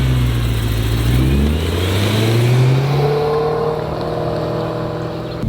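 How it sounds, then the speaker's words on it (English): A BMW E92 M3's S65 V8 revs hard and high, its loud engine note climbing steadily in pitch before easing off, close and with no talking. "The S65 V8 high rev."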